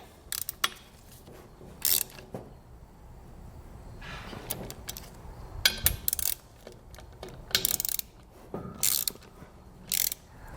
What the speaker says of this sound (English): I'll pop these on a wrench and get them properly secured.